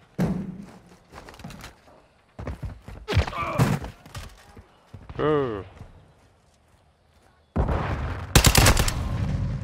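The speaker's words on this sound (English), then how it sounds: "I was firing and I still missed him" Video game gunfire in a multiplayer shooter, bursts of loud shots in several clusters with heavier rapid fire near the end, mixed with players talking.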